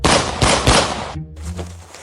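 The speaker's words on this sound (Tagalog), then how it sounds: "ibiglang umalingaw-ngaw ang malakas na putok ng baril" Sharp gunfire cracks, three loud bursts in quick succession followed by a brief silence and a faint, fading echo.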